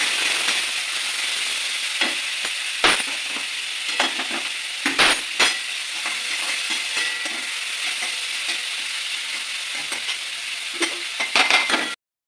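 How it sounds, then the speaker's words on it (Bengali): Chunks of meat, with shrimp, fry in hot oil in a pan for mixed fried rice, giving a steady loud sizzle broken by sharp clinks and scrapes of stirring throughout. "একটু মাংস দিয়ে দেবো, একটু মাংস। একটু ভাজবো।"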